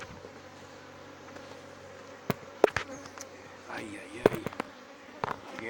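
Honey bees hum steadily around an open hive during brood nest work, a dense low drone close to the microphone, broken by sharp clicks and knocks from handling the hive boxes.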